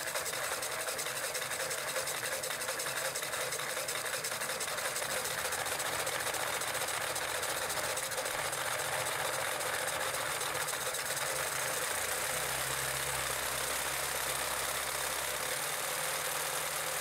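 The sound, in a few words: high-speed electric motor spinning 3D printed gearbox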